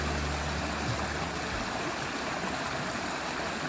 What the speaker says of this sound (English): Isn't the noise of the water just so magical?